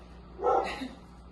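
A single dog barks once at moderate volume during an indoor workout, a short bark-whine followed by quiet room tone.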